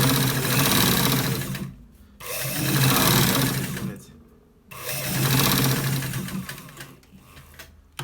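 An electric sewing machine stitches a collar shirt in three loud bursts of rapid, buzzing needle strokes, each separated by a brief pause.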